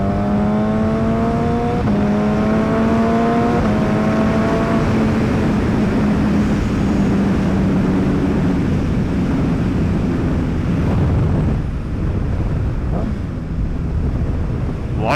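Motorcycle engine climbs and drops in pitch through several quick upshifts at around 20 to 25 mph, half-buried in steady, roaring wind noise.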